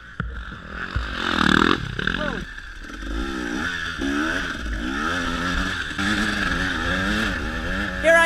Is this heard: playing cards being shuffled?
no